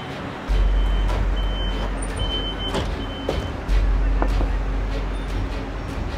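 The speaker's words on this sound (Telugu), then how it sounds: "సో మనం బస్సులో అయితే ఎక్కేసినాం" Inside a red city bus in Europe, the engine hums low and steady, with brief beeps and small rattles as passengers board and the bus pulls away, loud and close the whole time.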